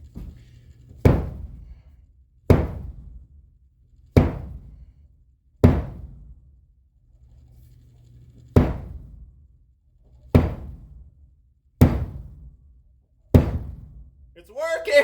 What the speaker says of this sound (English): I'm going to keep slamming it down until it's all the way through.